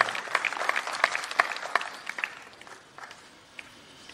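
An audience at a university Independence Day celebration claps steadily, with dense applause that swells early and then tapers to scattered claps.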